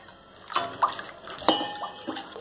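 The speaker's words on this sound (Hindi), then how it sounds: "इसमें थोड़ा सा और पानी साथ में ऐड कीजिए आप।" Water is poured and splashed into kadhi pakoda batter in a kitchen pot, a few short, close wet splashes and trickles over about two seconds.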